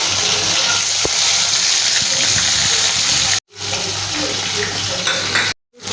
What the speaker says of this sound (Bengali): হালকা করে চিংড়ি মাছ ভেজে নিতে হবে।